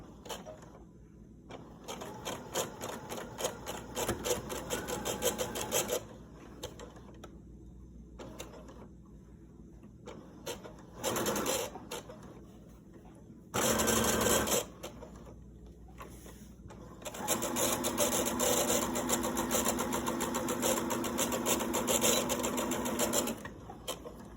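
Sewing machine stitching a chicken-shaped grocery bag holder, running in several bursts of rapid needle clatter separated by pauses, with a louder sustained run near the end, close and without talk.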